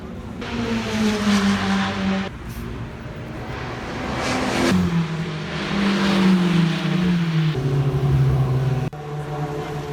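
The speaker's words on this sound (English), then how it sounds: "I hear cars. That's the Ferrari practice." Ferrari Formula 1 cars in practice at the Montreal circuit for the 2019 Canadian Grand Prix, heard from the fan zone as steady, sustained high-pitched engine whine with shifting pitch, continuous through the stretch with no talk.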